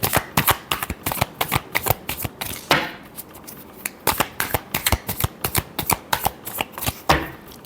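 Tarot cards being shuffled for a reading: rapid riffling and snapping bursts that repeat in a quick, uneven rhythm, close and clear, with no talk.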